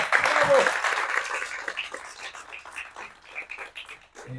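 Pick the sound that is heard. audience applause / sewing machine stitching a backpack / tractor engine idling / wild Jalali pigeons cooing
audience applause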